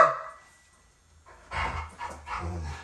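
A dog lets out a short, high whimper right at the start, then goes quiet before some rougher snuffling and panting sounds at close range.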